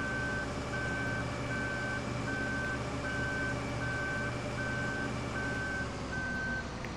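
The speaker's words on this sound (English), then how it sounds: "that beeping is terribly annoying" A vehicle's reversing alarm in Farming Simulator 15 beeps in a steady, evenly spaced series of about nine beeps over a constant engine drone, with no speech.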